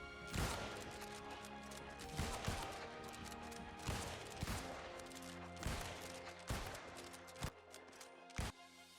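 Five musket shots in the New World video game ring out as sharp, loud cracks spaced about two seconds apart, each with a brief booming tail over a steady ambient game backdrop.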